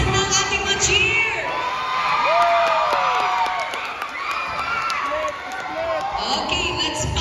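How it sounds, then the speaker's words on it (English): An audience at a cha-cha-cha dance competition cheers and shouts loudly, with excited whoops and scattered clapping forming a dense, close roar that swells and dips over several seconds. "Asan ang ating mga cheer?"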